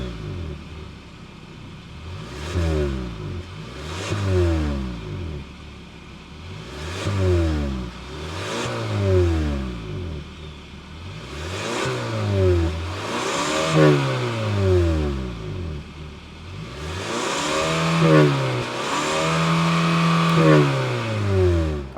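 A 2026 Hyundai Sonata SEL Sport's naturally aspirated 2.5-liter four-cylinder engine is revved repeatedly, about eight rising-and-falling vroom cycles heard close and alone, growing a bit louder toward the end.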